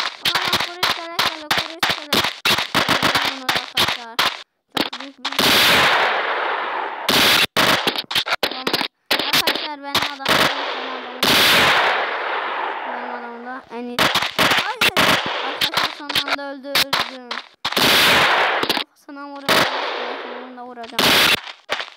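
Rapid bursts of video game gunfire blast at zombies, with quick single shots and longer automatic volleys repeating loudly throughout and short pauses between.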